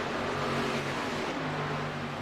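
Race cars at Talladega in the K&N series pull up to speed, a dense roaring wash of engines that stays loud and continuous without any voices.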